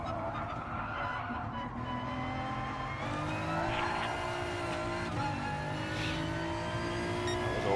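A race car in Gran Turismo Sport, driven in fourth gear and nearly snapping loose, holds a steady engine drone with rising and falling revs and a hint of tyre squeal throughout, with no voices.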